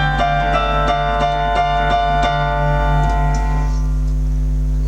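A piano plays a vocal line: evenly spaced, struck notes ring over sustained lower chords in a steady, close, moderately loud pattern with no voices.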